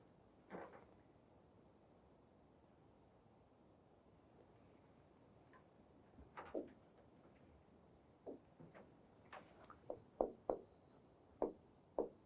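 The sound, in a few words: writing on a board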